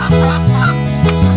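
Close, loud chicken calls sound in a quick series of throaty, honking clucks, repeating about four times in just over a second.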